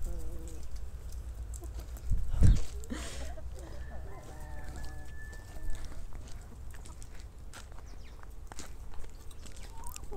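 Backyard chickens in a vegetable garden peck at freshly dug worms, giving soft clucks and one brief louder call, with light scratching and footsteps under faint outdoor ambience.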